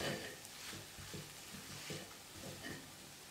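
Radish chutney with grated coconut being stirred lightly in a pan, soft rhythmic scraping strokes over a faint sizzle, close and quiet.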